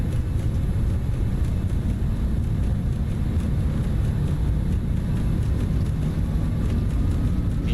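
Twin jet engines of a Just Flight F100 airliner at takeoff thrust in Microsoft Flight Simulator, a loud, steady, broadband roar with deep rumble that holds evenly throughout without pause.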